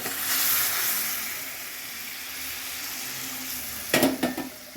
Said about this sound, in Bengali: এই আমি গরম জলটা দিয়ে দিচ্ছি